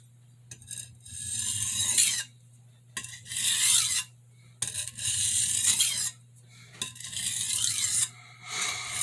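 A santoku kitchen knife is drawn across a whetstone in several rhythmic, gritty rasping strokes of about a second or two each, separated by brief pauses, close and distinct.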